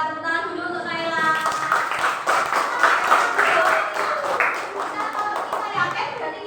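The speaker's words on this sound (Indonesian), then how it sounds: "Tepuk tangan dulu untuk Naila." Classroom applause for a student, a burst of many hands clapping steadily with children's voices mixed in.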